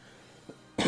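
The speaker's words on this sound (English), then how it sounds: "I do apologize about my constant coughing." A single sharp cough breaks out loud and close near the end, following a quiet stretch with one small throat sound, from someone narrating a Hearts of Iron IV playthrough.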